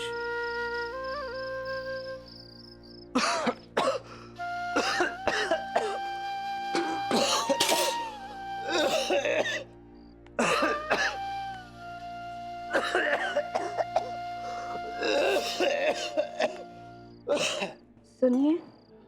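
An elderly woman coughs in a domestic scene, several harsh coughing fits spread across the clip alongside spoken dialogue and background music tones.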